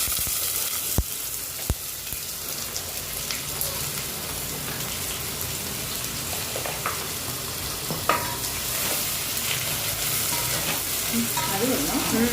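Onions frying in a generous amount of ghee and oil give a continuous, close sizzle with crackling pops throughout and occasional sharp clicks of a utensil against the pan.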